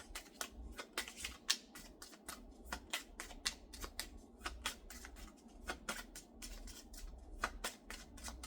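Tarot cards are shuffled by hand in a quiet room, a steady run of soft, rapid riffling clicks and flicks that carries on throughout without any voice.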